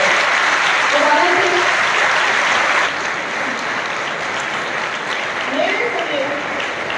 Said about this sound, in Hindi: तो मैं चाहूंगी कि उसकी मम्मी के लिए भी जोरदार तालियां बजाएं।